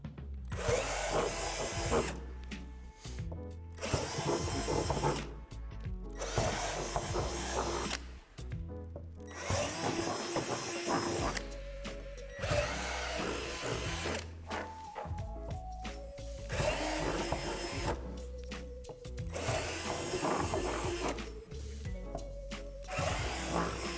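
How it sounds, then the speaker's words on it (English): A power drill with a 3/8 bit bores divots out of plastic rock wall panels for a playset, in repeated whining bursts of several seconds each separated by short pauses, close and fairly loud. "locate these 4 divots and drill them out with a 3/8 drill bit"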